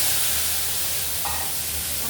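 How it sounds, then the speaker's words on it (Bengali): Chili powder, salt and turmeric hitting hot oil for a katla fish curry, a dense, steady sizzling hiss that fills the whole moment, close and continuous. "এখন মশলাটা আমি তেলের মধ্যে দিয়ে দিচ্ছি।"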